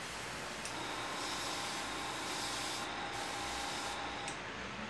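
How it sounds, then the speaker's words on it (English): An airbrush sprays paint in a steady, continuous hiss with a faint airy whine, close and even throughout, during stencil work on an abstract painting. "Plain old-fashioned airbrushing."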